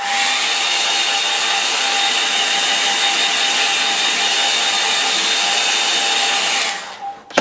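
A hair dryer blows steadily on a line-and-wash watercolour painting, a loud constant airy roar with a faint whine that runs for about seven seconds before cutting off abruptly.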